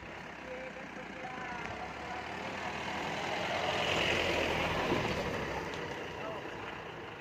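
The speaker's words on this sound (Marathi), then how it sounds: "टेम्पो आलाय पुढून।" A tempo truck's engine rumbles as it approaches at a temple festival for the wedding of Ganesha at Shree Lagnya Ganpati Devasthan, swelling to its loudest a little past the middle and then easing, amid crowd voices.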